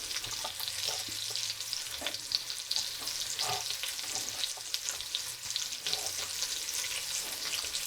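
Sliced onion and carrot frying in plenty of fat, a continuous close hissing sizzle with occasional crackles and light stirring scrapes, no voices.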